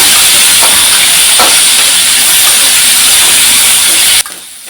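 Chopped tomatoes and a large onion sauté for Kovai-style sambar with a loud, dense, continuous hiss of frying close by, which suddenly drops away near the end.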